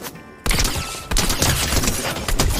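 Rapid video game gunfire in Fortnite, dense bursts of shots starting abruptly and continuing loudly with repeated volleys and no talk over it.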